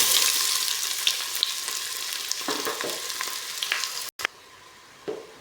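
Ginger and onion frying in bubbling oil, a steady close sizzle with scattered pops and crackles that drops away sharply near the end.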